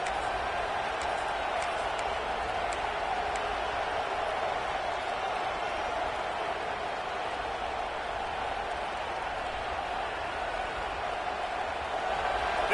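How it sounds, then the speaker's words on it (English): Stadium crowd in a college football video game, Michigan against Texas A&M: a constant, even roar of many voices heard from afar, steady for the whole stretch with no break. "This crowd trying to make life miserable for this offense."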